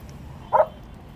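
A Malinois guard dog on a city street gives a single short, sharp bark, fairly close and loud, over a low background rumble.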